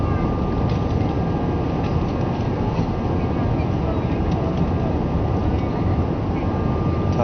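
An Airbus A319-111 climbs after take-off from Valencia with its landing gear retracted, heard from inside the cabin as a steady, loud, unbroken engine and airflow roar.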